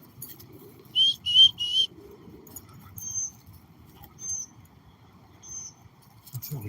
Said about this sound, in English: Squeaky baby bird.